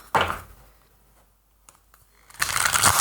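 A deck of tarot cards being shuffled in two short bursts, a brisk riffle at the start and a longer rustling run at the end, with near silence between and no talk.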